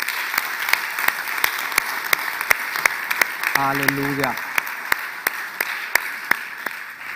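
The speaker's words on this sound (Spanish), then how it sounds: "Le podemos dar un aplauso a nuestro Salvador Jesucristo." A church congregation applauds at a Spanish-language sermon on baptism, rhythmic unison clapping in a steady beat, joined briefly by a single voice calling out in the middle.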